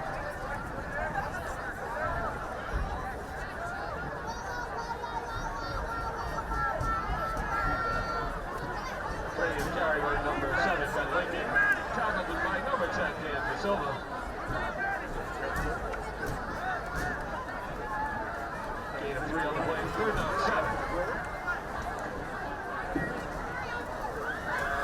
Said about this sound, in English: Crowd noise has significantly gone down as this game has moved along.